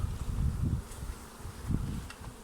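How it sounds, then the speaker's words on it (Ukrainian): Honey bees buzz densely at a hive during swarm season, a close, continuous low drone with fluctuating intensity and no speech. "Тут ще залишилось багато бджіл, потрібно їх струсити у вулик."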